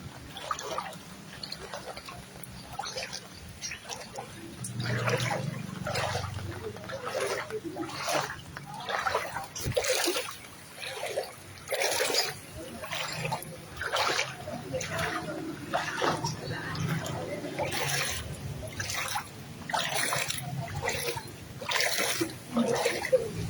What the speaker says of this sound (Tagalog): Grabe ang baha.